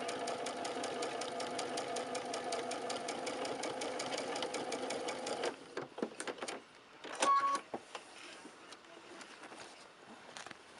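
A sewing machine stitches quilt pieces with a fast, even mechanical chatter for several seconds, then stops, followed by a few scattered clicks and handling noises nearby.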